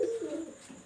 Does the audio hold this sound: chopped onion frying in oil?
no